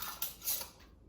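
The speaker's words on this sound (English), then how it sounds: "Get your lid lifter. And grab your ring." A metal canning lid lifter and jar ring are handled while preparing vinegared red onions for the canner, giving two or three faint, brief metallic clinks in a quiet room.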